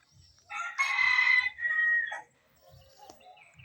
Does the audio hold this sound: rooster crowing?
yes